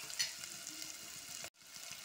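Chopped onions and curry leaves, salted, sauté in a pan for a snacked-on curry of snake gourd and dried prawns, a steady crackling sizzle that cuts out abruptly near the end and then resumes.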